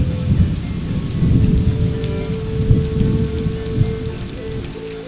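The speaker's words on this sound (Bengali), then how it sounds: "প্রচুর বৃষ্টি হচ্ছে প্রচুর বৃষ্টি" Heavy rain pours steadily at Ratargul swamp forest in Sylhet during a flood, a loud dense hiss of drops on surfaces with low rumbling thunder rolling underneath throughout.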